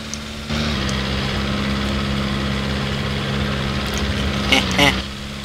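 Piston engine of a classic de Havilland Tiger Moth biplane in flight, a steady droning hum with low harmonics running throughout, with a short louder swell near the end.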